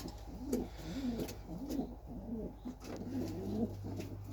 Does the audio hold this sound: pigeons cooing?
yes